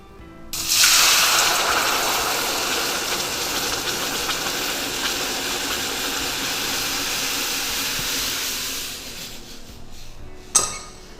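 Water pours steadily into a cooking pot for soup, a continuous bright splashing rush lasting around nine seconds before it stops, followed by a brief clunk of the pot, with no talking.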